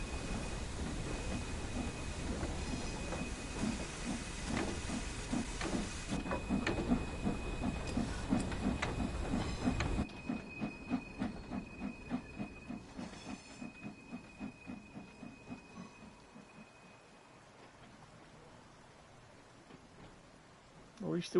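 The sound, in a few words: steam train shunting wagons in video game Train Sim World 3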